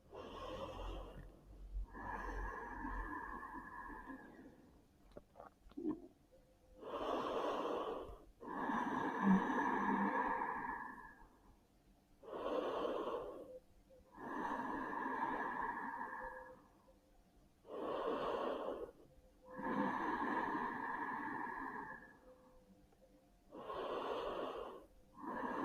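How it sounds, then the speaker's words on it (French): Slow, deep breaths during a yoga flow session, with about eight drawn-out, airy inhales and exhales heard close and clear, separated by short quiet gaps. "Et on inspire 3 fois profondément."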